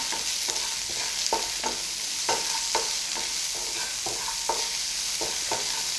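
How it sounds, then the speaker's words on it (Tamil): Sliced big onions with a little salt sautéing in a pan, a steady broadband sizzle broken by repeated scraping stirs at an uneven rhythm, close and moderately loud with no voices. "வெங்காயம் வதங்குறதுக்காக போட்டு நல்லா வதக்கிடலாம்"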